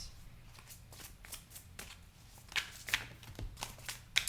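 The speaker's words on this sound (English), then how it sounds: "Let me just see if there are any additional cards that want to come out." Tarot cards shuffled by hand, a close, soft, rhythmic riffling with several crisper snaps toward the end, heard alone without talk.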